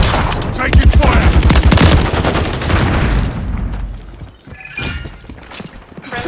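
Gunfire in Call of Duty: Modern Warfare III, a dense, loud fusillade of rapid shots and bursts during the first few seconds that thins into scattered cracks and impacts, with game effects continuing in the background.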